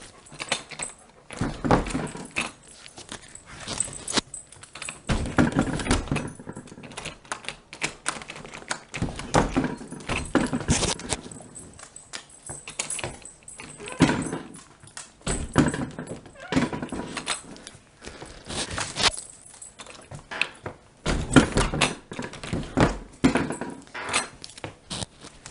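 Rattling and knocking at a house door, with jangling keys, brief clicks and scuffs from a dog on a leash, coming in irregular bursts separated by quieter gaps, close and fairly loud.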